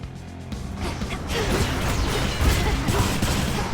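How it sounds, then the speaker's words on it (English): Rapid gunfire from the video game Hades II, a quieter stretch that swells into a dense, loud barrage of shots and clatter with a voice faintly underneath. "I'm gonna open fire now."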